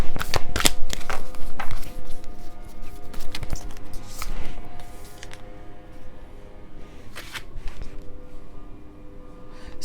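A tarot card deck is shuffled loudly and close up, with repeated riffling bursts and flutters of cards that run throughout.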